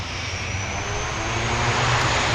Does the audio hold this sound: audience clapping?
no